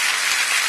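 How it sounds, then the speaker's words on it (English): Applause for New York City Mayor Bill de Blasio at a National Children's Mental Health Awareness Day event, a brief dense burst of crowd clapping, steady and fairly loud. "Yes, you can give him another round of applause."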